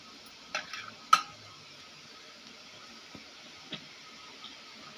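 Steady low crackling and bubbling of oil in a pan, with a few sharp clinks and taps standing out now and then.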